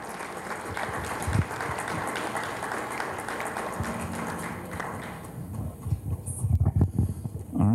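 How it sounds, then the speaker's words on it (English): Audience applause at a state party political convention, steady broadband clapping filling the room for several seconds before thinning out into scattered claps and muffled stage noise near the end. "So please give her a round of applause."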